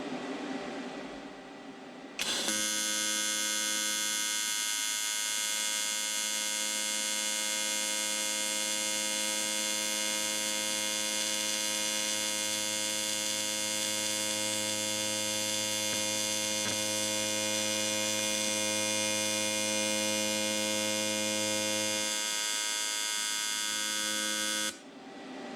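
Welding during a supercharger install on an X2 makes a steady electric buzzing hum. It starts abruptly, holds evenly for about twenty seconds, then cuts off.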